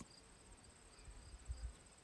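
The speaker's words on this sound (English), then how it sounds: "Listening to the crickets at night" Crickets chirp at night in quiet forest countryside, a faint, steady high-pitched trill repeating evenly in the background, with a few soft low bumps nearby and no voices.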